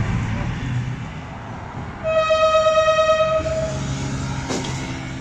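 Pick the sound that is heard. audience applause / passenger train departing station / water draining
passenger train departing station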